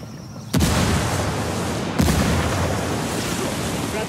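Two loud frag grenade blasts in a wartime shooter game set in the wildlands, each a sharp boom followed by a long rumbling roar, the second about a second and a half after the first.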